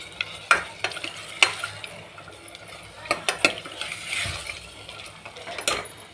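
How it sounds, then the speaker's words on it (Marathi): Mutton with yellow masala paste, turmeric and salt being stirred in a metal pot, a series of scraping, clanking strokes of the spoon against the sides with soft sizzling between them, close and without any talk. "हे हलवून घेऊ."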